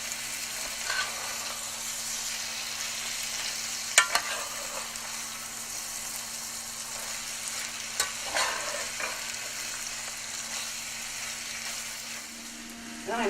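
Salmon tossed into a pan with potatoes and onions, frying with a steady broadband sizzle and a low hum underneath, plus a few sharp clicks of stirring or utensil contact, close up with no talking.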